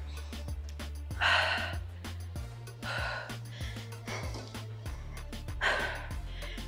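Heavy, gasping breaths after a full-body workout, several loud exhalations in uneven bursts close to the microphone over a low steady hum.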